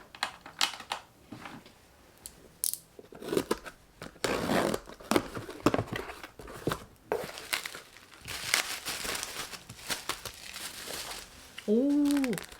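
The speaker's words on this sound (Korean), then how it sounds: "요거 바로 뜯어볼게요" A package of nail stickers being torn open and handled: irregular crinkling plastic and paper rustles in bursts, close and moderately quiet, with brief voice-like tones near the end.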